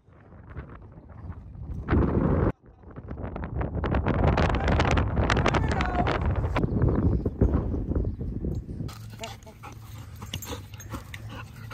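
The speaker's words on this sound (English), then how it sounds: "It's really windy." Strong gusting wind on the summit of Mount Bierstadt, a Colorado fourteener, buffeting the microphone in loud, continuous roaring blasts that build, briefly drop out, then rush on.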